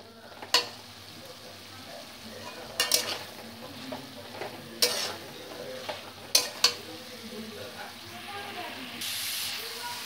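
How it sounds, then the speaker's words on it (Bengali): Boiled kabuli chickpeas are stirred with spices in a hot pan, giving scattered scraping strokes and soft sizzling over a faint steady hiss, with a brief steamy burst at the end. "ছোলাগুলোকে মশলার সঙ্গে ভালোভাবে মিশিয়ে নিচ্ছি"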